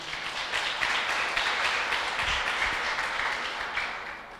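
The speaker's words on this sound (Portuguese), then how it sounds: "aplauda o Senhor por isso" A church congregation applauds during a sermon with a steady, even wash of clapping from many hands. It sounds fairly distant and moderately quiet, and no one speaks over it.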